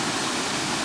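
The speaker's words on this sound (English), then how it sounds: "Sucker for waterfalls," A waterfall pours in a steady, full broadband rush, close and unbroken, with no voices over it.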